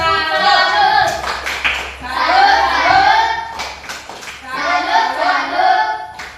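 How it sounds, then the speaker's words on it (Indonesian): Clapping for three student groups in a class, a mid-loud burst of hand claps that swells and fades twice, mixed with strong chanting and shouting voices throughout. "Tepuk tangan untuk ketiga kelompok."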